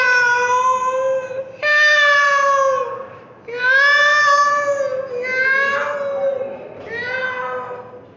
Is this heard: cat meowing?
yes